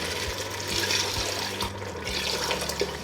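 Four cups of water pouring into a pot of browned meat for haleem, a steady close splashing and gurgling stream that continues throughout with no talking.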